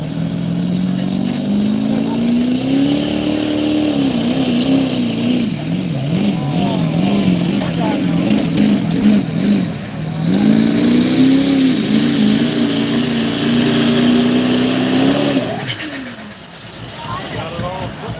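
A Dodge diesel farm truck races at a drag strip, its engine roaring and rising in pitch through a long pull, then briefly easing and climbing again before cutting off, loud and sustained.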